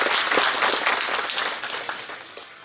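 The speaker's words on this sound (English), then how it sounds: "So I think a big round of applause." Conference crowd at a power electronics and energy systems event gives a round of applause, brisk clapping that starts strong and gradually thins out.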